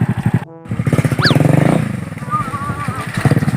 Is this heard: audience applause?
no